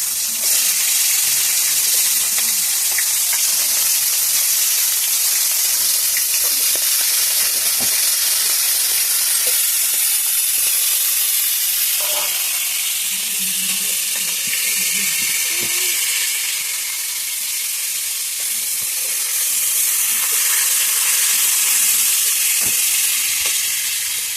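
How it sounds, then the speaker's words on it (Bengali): A fish head fries in oil in a pan, giving a loud, continuous hiss that holds steady and dips slightly midway, with faint scattered pops beneath. "মাছটা ভাজা হয়ে গেছে"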